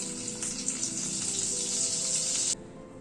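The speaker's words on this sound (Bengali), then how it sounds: "সাদা তেলের সাথে 1 চামচ মতো মাখন দিলাম" About a spoonful of butter sizzling in hot white cooking oil in a pan, a steady close hiss that stops abruptly near the end.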